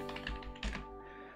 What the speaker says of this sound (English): As you can see, I'm typing one by one